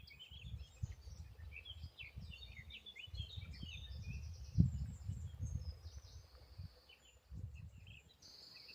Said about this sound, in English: plenty more birdsong in this magical place.